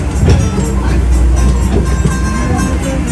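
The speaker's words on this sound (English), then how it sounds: "Sadly, we're now nearing the end of our train ride around the city of Valletta." Tourist road train rolling through the streets of Valletta, Malta, a continuous low engine rumble and rattling ride noise with faint clatter and bumps, close and steady throughout.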